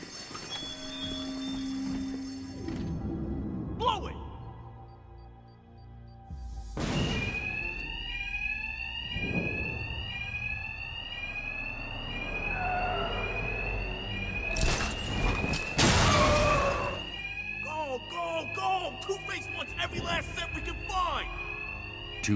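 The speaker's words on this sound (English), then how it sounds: "Two-Face's thugs won't hear me over the alarm." A bank alarm rings in the game Batman Arkham Knight during a robbery in Gotham's Chinatown. It is a repeating electronic tone mixed with heavy impacts and scraping bursts from the game.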